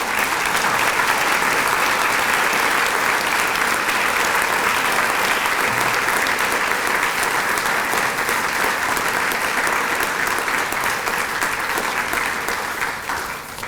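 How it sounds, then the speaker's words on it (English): Sustained audience applause for graduating seniors at an honors convocation, a dense, steady wash of many hands clapping that holds loud throughout and tapers slightly at the end. "Let's give these seniors a round of applause."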